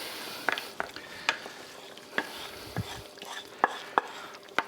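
Roux of butter, flour and beef stock being added to beef stroganoff in a pan, heard as a quiet simmering sizzle broken by scattered spoon and pan clinks and scraping stirs.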